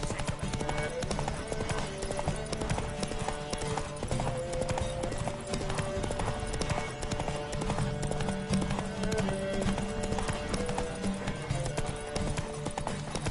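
Rapid, rhythmic hoofbeats of a galloping horse in The Witcher 3: Wild Hunt drum continuously over a dense, busy background, sounding like a game soundtrack with no clear speech.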